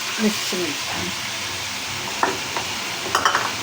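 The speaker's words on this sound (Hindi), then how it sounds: "अब इसको अच्छी तरह से यहाँ भून देंगे।" Chicken being fried and stirred in a pot with masala for achar gosht, a soft steady sizzle with a few scraping stirs and light metallic knocks of a spoon against the pot.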